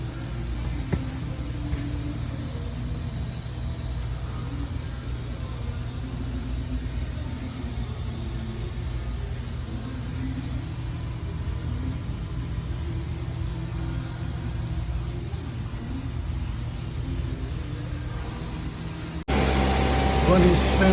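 Haas GT-20 toolroom lathe from 2006 with its spindle running at maximum speed and no load, giving a steady, even mechanical hum and rumble that continues unchanged before turning louder near the end.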